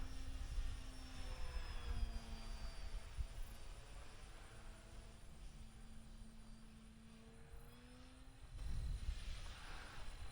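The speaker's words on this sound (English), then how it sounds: "this is just a great flying plane" An E-Flite Turbo Timber Evolution RC plane flies overhead with a steady, faint electric motor whine that rises and falls in pitch as it cruises and turns, with some wind noise.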